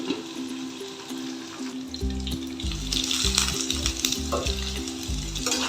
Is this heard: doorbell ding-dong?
no